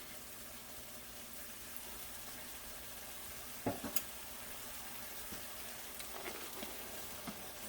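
Drained, rinsed cannellini beans tipped into a hot skillet, giving a steady close sizzle with a few sharp clatters and stirring scrapes partway through, no talking.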